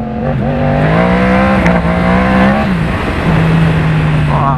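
Yamaha MT-10 motorcycle engine running loud and close on a test ride, a strong steady drone with a pitch that rises, dips and settles, without talk.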